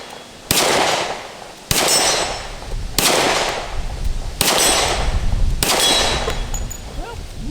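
Five sharp, loud gunshots from a RIA Rock Ultra FS high-capacity double-stack 10mm 1911 pistol, fired at a range target about 35 yards out, spaced roughly a second apart, each with a short ringing decay.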